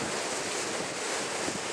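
Strong wind gusts buffet the microphone beside a waterfall, a steady loud broadband roar with no talking.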